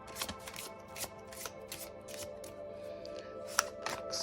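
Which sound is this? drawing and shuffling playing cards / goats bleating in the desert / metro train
drawing and shuffling playing cards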